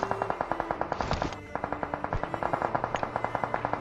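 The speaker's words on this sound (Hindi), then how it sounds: "अब जो ये फायरिंग हो रही है इसको जस्ट आप नोट करो" Rapid automatic gunfire in a video game, a steady stream of sharp evenly spaced shots close up and loud, with a brief hitch partway through.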